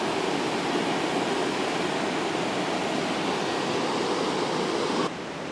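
Water rushing over a dam on the Linville River, a steady broadband roar heard close and loud, continuous throughout with no other sounds.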